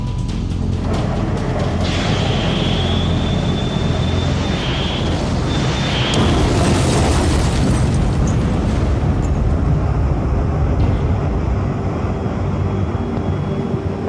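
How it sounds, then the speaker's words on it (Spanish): An explosion in the air during an attack on the British destroyer HMS Coventry: a loud, continuous roar with a high whine that rises and fades, then a broad rumbling blast that swells and holds for seconds. "Explosión aérea 2002."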